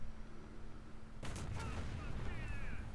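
A T-72A tank cannon firing in War Thunder, a single sudden heavy blast over a steady low engine hum, followed by a rumbling tail, moderately loud.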